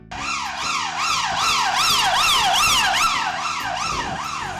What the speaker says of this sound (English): With bright flashing lights and a noisy siren.